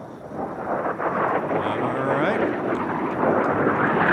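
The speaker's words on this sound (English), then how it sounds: "the red and white L39 is the newer, the younger airplane, and the L29 catching him from behind" An L-39 jet and an L-29 jet race in the jet class at the National Championship Air Races, producing a dense, continuous roar with heavy wind rumble and no clear gaps.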